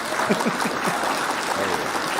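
An audience claps for themselves during a morning live broadcast: a dense, even patter of hands with voices mixed in underneath, holding steady for the whole span.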